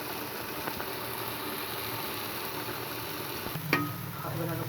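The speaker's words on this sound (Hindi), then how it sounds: "इसको चला चला के अम्मी ने अच्छी तरह से भूना है" Carrot and fenugreek sabzi stirred and fried in a pan, giving a steady soft sizzle throughout with occasional scraping clinks of the spoon, one sharper knock near the end.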